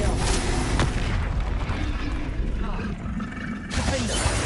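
Spell explosions from Bombarda and Confringo in a Harry Potter video game rumble as dense, booming blasts over a noisy combat soundscape, with a short dip before the clamor resumes.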